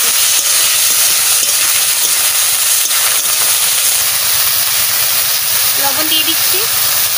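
Fruit is tipped into hot oil in a pan while a sour fruit bhaji is cooked, setting off a loud, continuous sizzle. The steady crackling hiss stays close and even throughout, with a faint brief voice-like tone near the end.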